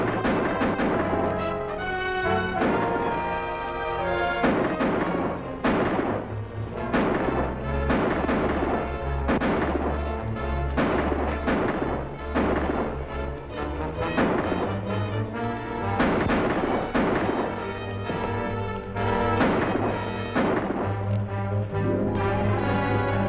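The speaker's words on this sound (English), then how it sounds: "Stay here and keep shooting." Gunfire in a shootout from a western movie sounds as rapid, overlapping bangs and cracks. They sit under a dense, continuous layer of loud dramatic orchestral music, and no voices are heard.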